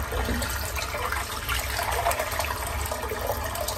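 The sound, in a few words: sink filling with water from tap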